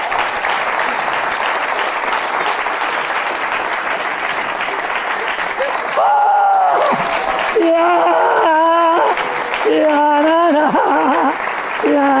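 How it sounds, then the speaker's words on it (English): Audience applause, dense and loud, rolling steadily for about six seconds before a voice begins speaking over the fading clapping. "Big applause for her. Big applause."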